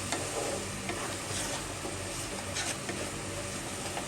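Chili powder fries in oil in a pan as it is stirred, a steady close sizzle broken by faint scraping strokes of the spoon, with no talking over it.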